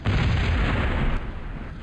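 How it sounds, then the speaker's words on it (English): Big nuclear blast in the real-time strategy game Total Annihilation: a loud, dense, roaring boom that fills the whole clip, holding steady for about a second before easing into a rumbling tail, no voices. "that was a big explosion."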